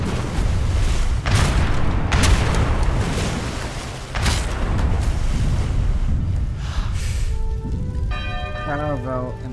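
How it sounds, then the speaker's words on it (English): Caravel warships firing cannon shots in the Age of Empires 3 campaign, heavy booming blasts with bell-like clangs over a continuous roar of naval battle, with a brief tonal unit acknowledgement near the end. "Caravel and fire shot."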